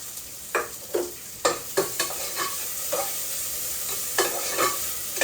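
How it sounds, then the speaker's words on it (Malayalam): Carrots and mixed vegetables being sautéed in ghee in a pan, a steady sizzle broken by repeated spoon stirs and scrapes at an uneven rhythm, close and clear. "ജസ്റ്റ് ഒന്ന് നെയ്യിലൊന്ന് ചൂടാക്കിയെടുക്കാം"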